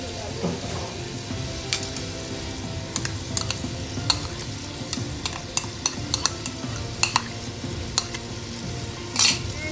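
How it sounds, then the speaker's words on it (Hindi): Meat sizzles steadily with garlic-ginger paste in a hot pan for aloo gosht while a utensil stirs and scrapes, with sharp clicks of metal against the pot throughout. "लहसुन अदरक जो है इसके साथ गोश्त को मैं थोड़ा सा भून रही हूँ"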